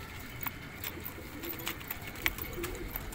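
Pigeons kept in a breeder's loft setup in Hyderabad, offered for sale, coo softly and intermittently against a faint background murmur with occasional sharper chirps and rustles.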